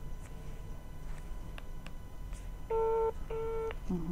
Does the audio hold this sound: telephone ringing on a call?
yes